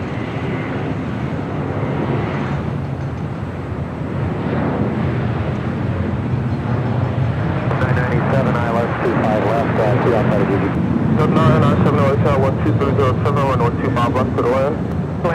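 A United Boeing 777 bound for Honolulu taxis toward runway 25 right at Los Angeles International Airport, its steady jet-engine roar rising slightly midway, with people talking over it throughout.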